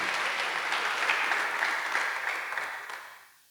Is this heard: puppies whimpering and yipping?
no